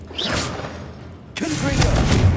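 A Confringo blasting spell goes off in Hogwarts Legacy, a sudden broadband burst with a heavy low thud and rumble that swells and lingers amid busy game sound.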